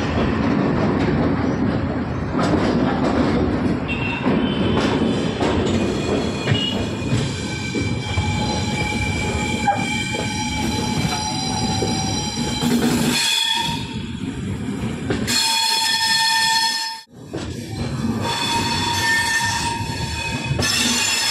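A passenger train on the Chennai to Mysuru route rolls steadily along the rails with loud, sustained wheel squeal and rumble, the screeching rising and falling, briefly dropping away near the end.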